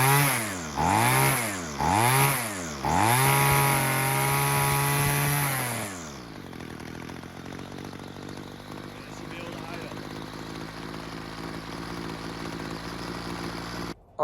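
A weed eater's small two-stroke engine, its low-end carburetor adjustment set too lean, revs from idle toward top speed in three quick hesitant rises before holding a high whine, then cuts to a quieter idle for the rest of the clip.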